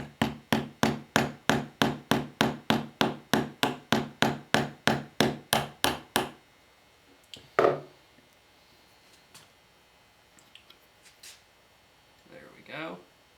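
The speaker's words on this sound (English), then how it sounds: "I'll just use a brass hammer on it." A brass hammer taps a Remington Model 12 .22 rifle part in a quick, even run of about twenty sharp metallic strikes, then stops; a few scattered handling knocks and a brief voice follow.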